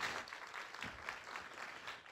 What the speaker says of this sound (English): Nice round of applause for Nikki Fox